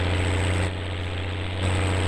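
A Swaraj 855 tractor in Farming Simulator 19 drones steadily while pulling a loaded trolley, its loud, low engine hum unbroken throughout, with a brief dip in pitch midway.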